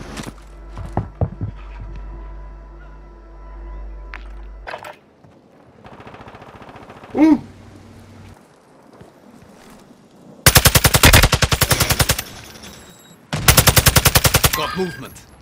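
Two long, loud bursts of rapid machine gun fire tear through a Warzone match, each lasting a couple of seconds. Quieter game sounds and a brief voice come before them.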